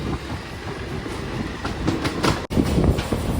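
The Ratnachal Superfast Express, heard from its general coach, crosses the Godavari river bridge with a continuous loud rolling roar and rumble of wheels on track. A brief sharp dropout comes near the end.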